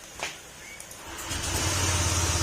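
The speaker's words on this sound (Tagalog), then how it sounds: "nagtataka siya kung bakit nga daw ganun yung tunog ng motor niya." A newly bought Honda Click 125 scooter, its engine neglected of oil, runs with an odd mechanical noise. A low, fairly quiet engine hum builds in after a brief tap, then settles into a steady drone.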